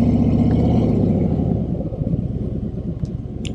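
A low, throaty Harley-Davidson Road Glide 3 trike engine rumbles steadily at idle close by, with an uneven pulsing beat and a few faint clicks near the end.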